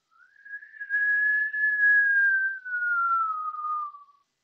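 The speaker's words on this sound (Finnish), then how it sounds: "Ja ulos hengitys suun kautta viheltäen." A long, smooth whistled exhale through the mouth, one sustained tone that rises slightly and then slowly falls over about four seconds, close and clear in a quiet room during a kundalini yoga breathing exercise.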